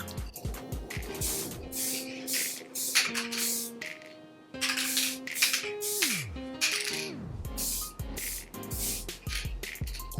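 Spray paint hissing from an aerosol can onto a DIY project indoors, in a series of short bursts of varying length separated by pauses, close and fairly loud, with faint music tones in the background.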